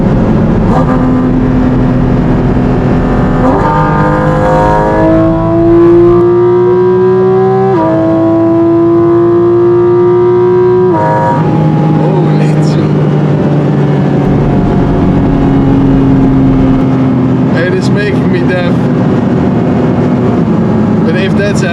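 A Porsche GT4 RS engine revs and drones continuously, pitch climbing and dropping through gear changes, with a loud, throaty intake roar from the air intakes close by.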